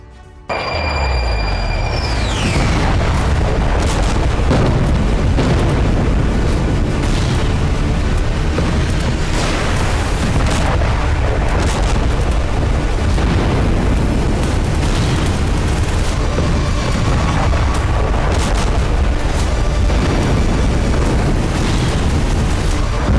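Loud, heavy explosions boom repeatedly over a continuous roaring rumble as a fireball rises during a strike in the Israel–Hezbollah conflict, the blasts dense and overlapping throughout.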